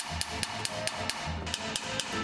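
Inspection hammer tapping a part on a Shinkansen bullet train, about a dozen quick, evenly spaced metallic taps over a steady background hum, close and moderately loud.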